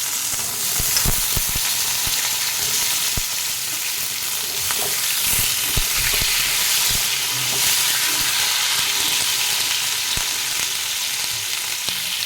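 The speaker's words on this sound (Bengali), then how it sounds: "ওই কড়াইতে আমি আলু পটল দুটো একসাথে দিয়ে ভালো করে ভেজে নেব।" Potato and pointed gourd frying in plenty of oil in a wok over high gas, giving a steady, loud hiss and crackle with occasional sharp pops throughout, no talking.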